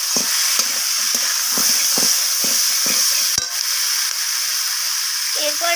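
Rohu fish curry with onion stalks is sautéed in a pan: a steady hiss of frying under a regular series of spatula strokes, about one every half second, with a brief voice near the end.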